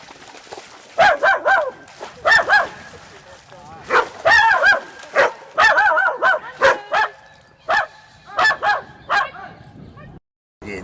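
Dogs barking in repeated bursts near swans on a pond at Hampstead Heath, with honking and bird calls mixed into the outdoor scene.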